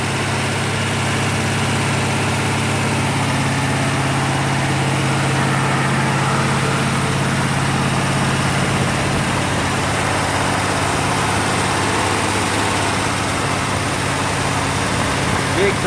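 A small-block Chevy 350 with a 307 crankshaft idles steadily on its first run during camshaft break-in, with a rough-sounding exhaust: a continuous low, even rumble that stays close and constant throughout, with no talk over it.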